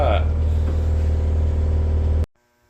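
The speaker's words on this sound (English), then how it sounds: "what you gain with the grinder is faster RPM, so it's very crisp, nice holes that are drilled" An angle grinder used as a drill in a drill jig runs at high speed as a loud, steady whine with a strong low hum, then stops abruptly near the end.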